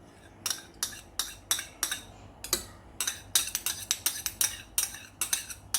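A metal utensil stirring soy sauce and fish sauce in a bowl, making a quick run of sharp clinks and taps that comes in rhythmic bursts, close and clear, with no speech.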